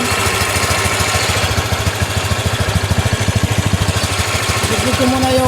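A Honda Click V3 scooter engine runs at idle close by, with a steady low throbbing pulse that holds throughout, loud and continuous.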